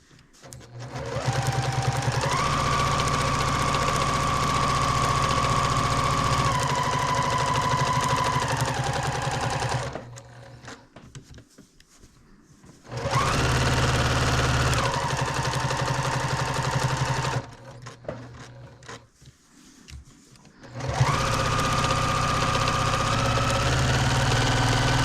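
A sewing machine runs in long steady bursts while stitching circular lines on a fabric project bag, with a mid-pitched motor whine in three runs separated by brief pauses and no talking.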